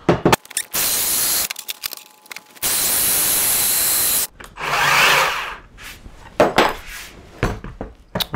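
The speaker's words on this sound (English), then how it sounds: "And I'll just cut that with the bandsaw." A bandsaw cuts through a piece of flat bar stock in bursts, loud steady whirring runs of a few seconds each separated by pauses, with clanks and handling noises between cuts.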